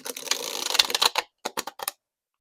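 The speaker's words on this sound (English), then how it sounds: "It shuffles beautifully, I might add." A tarot card deck is shuffled by hand, giving a quick flurry of crisp papery riffling, then a few separate short snaps of cards settling, close and fairly quiet.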